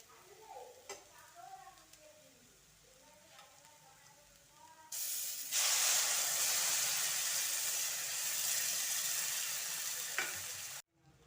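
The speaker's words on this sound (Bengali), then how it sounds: "এবারে আমি যে বাটিতে করে সুজি নিয়েছি সেই বাটির 2 কাপ আমি জল দিয়ে দেবো" Water hits a hot pan of lightly fried potatoes while a semolina breakfast is being cooked. It bursts into a loud, sustained sizzle after a few seconds of quieter stirring and soft kitchen clatter, then cuts off abruptly.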